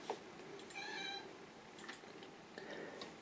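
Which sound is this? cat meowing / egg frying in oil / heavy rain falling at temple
cat meowing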